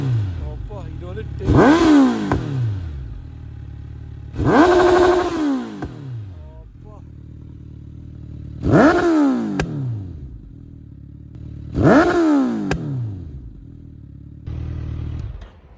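A parked Suzuki Hayabusa fitted with a full Akrapovic exhaust system is revved hard four times, each loud snarling burst rising and then dropping back to a lumpy idle. Brief voices are heard between the revs.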